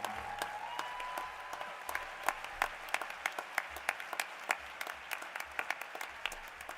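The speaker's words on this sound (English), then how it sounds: "a round of applause for our inductees into the Hall of Fame" Applause for Hall of Fame inductees at a sports opening ceremony, a soft wash of crowd clapping heard from a distance with sharper individual claps popping out near the mic.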